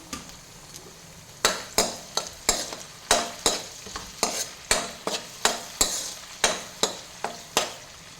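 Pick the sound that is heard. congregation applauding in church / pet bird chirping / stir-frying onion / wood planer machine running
stir-frying onion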